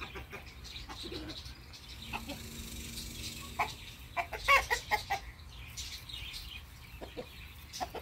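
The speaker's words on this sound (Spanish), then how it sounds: "Mira mi gallo." A rooster and hens in a backyard flock cluck and coo in short bursts of varying loudness, with a louder cluster of calls around the middle.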